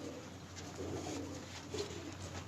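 A pigeon being held in the hand coos softly and faintly, with a low, continuous murmur under a steady background hum.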